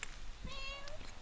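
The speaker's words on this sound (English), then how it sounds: "Oh yay! I heard a meow." A single short cat meow from a video game rises over a faint background hiss and fades within about half a second.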